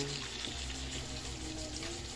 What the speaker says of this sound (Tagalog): Siglagan natin guys ng tubig.